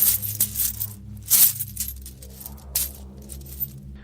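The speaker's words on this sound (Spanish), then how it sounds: "le gustaba contar una y otra vez sus monedas de oro, pues el sonido de estas, al chocar entre sí, era lo más hermoso que podía oír" Gold coins clink and jingle against one another in a few short metallic bursts over a low, steady background hum, with no one speaking.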